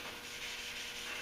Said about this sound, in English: The soft block won't cut the scratches as deep, but it also won't take out scratches as fast.